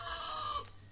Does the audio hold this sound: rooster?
yes